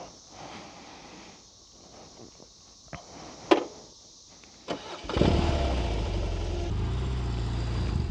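A motorcycle engine starts after a few quiet seconds of footsteps and small clicks, then settles into a steady, fairly loud idle close by for the rest of the clip.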